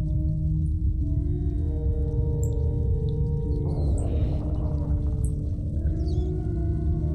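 Hanging rats in the video game Little Nightmares give off thin, wavering squeaks and tonal cries over a steady low drone, with a brighter swell near the middle of the stretch.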